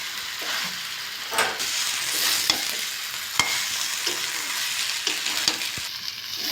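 Young jackfruit and potato are stir-fried in a spiced oil gravy, a continuous close sizzle broken by scraping spatula strokes and sharp clicks against the pan.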